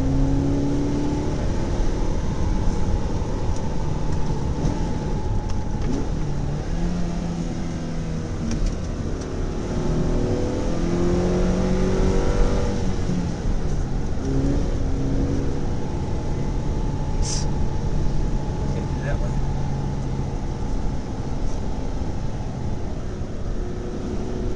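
A 2008 Mazda3 S Touring rolling on Blizzak winter tires, heard as a steady interior drone of engine and road noise with a low hum that holds even throughout, and no voices over it.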